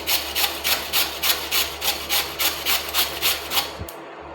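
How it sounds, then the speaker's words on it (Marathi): Raw peeled potatoes rubbed against a hand grater into water, a steady rasping scrape repeating in about a dozen even strokes, close and clear, stopping abruptly near the end. "किसणीने किसून घेऊया."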